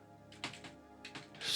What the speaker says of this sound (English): I can do this here on a keyboard.